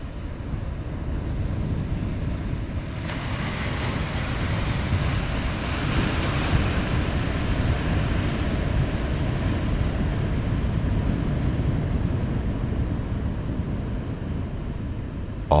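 Ocean waves wash steadily into a rocky tidal pool, a loud, continuous surf roar with wind rush, swelling and easing without pause and no voices.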